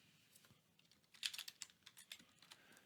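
Rapid clicking key presses on a computer keyboard while building graphic symbols in Adobe Animate, a quiet burst of irregular taps, close up and without talk.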